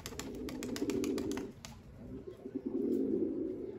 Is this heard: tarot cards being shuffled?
no